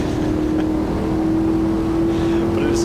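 A race car engine in the Automobilista 2 racing game revs hard and holds a steady, droning high note while the car slides through oversteer, loud and continuous throughout.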